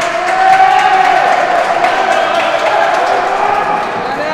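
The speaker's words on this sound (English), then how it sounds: "Crowd getting excited" A crowd cheers and roars at a rackets match during the world championship, a loud sustained swell of voices and whoops that stays dense throughout and eases slightly toward the end.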